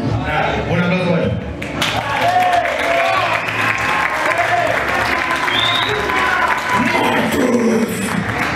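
Loud crowd applause and cheering at a metal concert in Bahia Blanca carry on throughout, with voices and scattered shouts mixed into the clapping close by.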